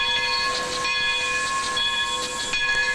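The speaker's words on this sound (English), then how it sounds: "this is our first sight of an American steam locomotive" An American steam locomotive on the Sacramento Southern Railroad vents a steady loud hiss of steam, mixed with a faint whistle-like ringing tone, continuous and fairly close.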